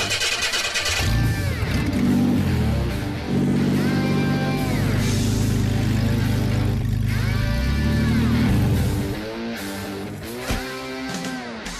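An old fire engine's engine runs roughly, loud and close, its throaty drone rising and falling in pitch with repeated revs over about twelve seconds, with no talking.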